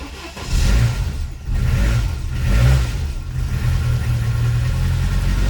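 Classic Saab engine, smoking and unwilling to run without throttle, roars close and loud with repeated revving surges over a rough low-pitched idle throughout.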